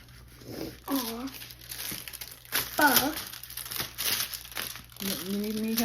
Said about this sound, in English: You gonna peel it all off first?